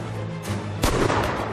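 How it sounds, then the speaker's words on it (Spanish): Gunfire rings out during a hunt on the ice, with a soft thump followed by a sharper, louder shot cracking through the open air at moderate distance. "Es cuestión de tiempo que uno de los disparos alcance a la presa"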